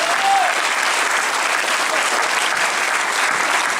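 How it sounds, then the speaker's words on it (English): An audience applauds a filmmaker at a Toronto After Dark film Q&A, making dense, steady clapping that fills the room at an even level with no pauses. "give him a round of applause."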